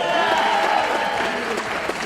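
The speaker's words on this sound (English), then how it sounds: "Give him a round of applause also." Audience applause for a costume contest winner at a Santo and Blue Demon monster movie screening event, a dense steady wash of clapping from a crowd, fairly loud and continuous with faint voices mixed in.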